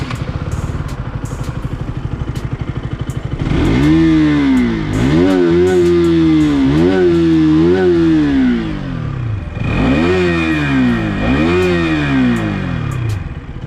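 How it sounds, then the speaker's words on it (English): A 2022 KTM RC200 sport motorcycle engine idles with a steady thrum, then is revved hard several times, its loud exhaust rising and falling in repeated bursts. "And now let's hear the exhaust note now."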